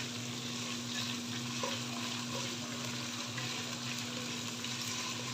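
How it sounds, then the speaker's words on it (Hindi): Ginger and green chillies fry in oil in a pan with a steady, dense sizzle and crackle that holds throughout, with faint stirring scrapes and no talk. "अदरक और हरी मिर्चों को हम अच्छी तरह फ्राई कर लेंगे"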